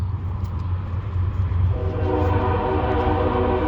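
Train passing near Martin Luther King Jr Park in Valdosta, a loud continuous rumble of rail cars with a sustained horn blast coming in partway through, no voices.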